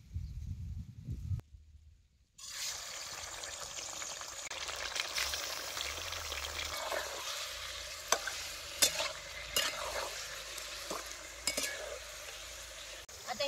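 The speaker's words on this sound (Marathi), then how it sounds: "आता ह्याच तेला जरा चिकन बी आता तळून घ्यायचं." Washed chicken pieces fry in hot oil in a home kitchen, a steady loud sizzle that starts abruptly after a brief quiet moment and carries on with occasional clinks and stirring taps.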